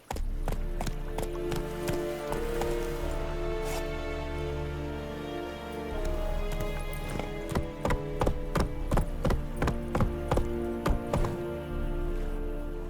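Horse galloping in The Witcher 3, quick rhythmic hoof clip-clops over an ambient game soundscape, picking up pace and growing more distinct toward the end, moderately close.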